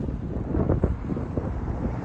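Cold mountain wind blows across the microphone near Livigno, Italy, a low steady rush with gusty buffeting and no voices.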